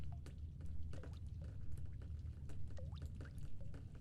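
Water dripping in The Stanley Parable, a series of small irregular plinks and drops over a low steady hum of game ambience, fairly close and moderately loud with no talk.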